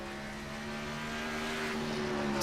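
A race car drives at Bristol speedway during qualifying, its engine a steady tonal drone with harmonic layers that grows gradually louder as it approaches.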